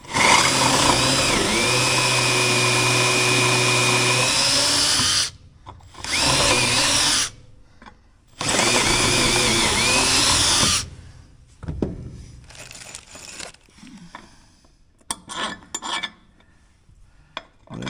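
A power drill with a larger bit whines loudly for several seconds, stops, then runs in two short bursts, followed by clinks and rattles of metal parts of a wheel chock tie-down system being handled.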